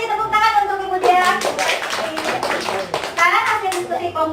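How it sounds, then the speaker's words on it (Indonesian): Applause from a group of participants, including children's voices, in a classroom-style group discussion session; dense clapping runs nearly continuously for about four seconds, moderately loud, with brief voices mixed in. "tepuk tangan untuk Ibu Dia"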